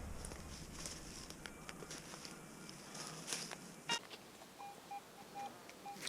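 Short electronic beeps from a metal detector chirp several times over a hissing outdoor forest background, with faint rustling and footsteps; a very strong signal reading above 90.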